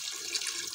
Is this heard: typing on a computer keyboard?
no